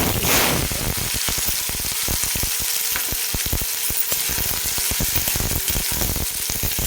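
Chopped onions sautéing in hot oil with popped mustard seeds and cumin, a steady close sizzle and crackle running throughout with dense spitting pops and no voices.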